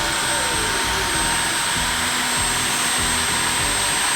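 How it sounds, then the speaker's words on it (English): A vacuum cleaner roars loud and close while cleaning the dust and hair out of a Roomba robot vacuum (500–800 series), a constant steady whine with shifting low rumbles as the nozzle moves. "You can also vacuum it."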